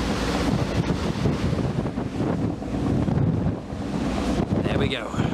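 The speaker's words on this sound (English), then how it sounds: "windy, wavy ferry crossing." Strong gusting wind buffets the microphone over the rush of waves against a moving ferry at night, loud and constant, with a brief high whine near the end.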